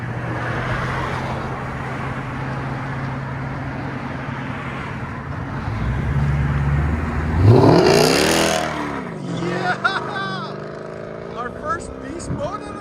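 Straight-piped Mercedes-Benz V8 fitted with an X-pipe, catalytic converters retained, droning steadily then surging into a loud, close acceleration roar that fades as the car pulls away, with someone talking over it.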